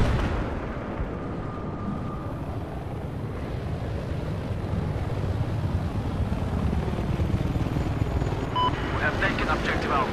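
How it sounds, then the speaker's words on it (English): A helicopter in the video game Battlefield 4 hovers nearby with a continuous deep rotor rumble, its drone holding steady and loud, with battle noise mixed in. "Why is that chopper hanging around here?"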